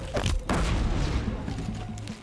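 A deep, booming bomb explosion in the video game Horizon Zero Dawn hits early, followed by a second blast and a rumbling, crackling tail that slowly fades.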